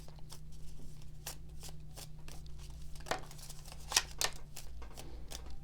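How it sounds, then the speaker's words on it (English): Tarot cards being shuffled by hand: soft riffling and sliding in short repeated strokes with occasional sharper snaps, close and quiet, without speech. "the shuffling takes longer and longer"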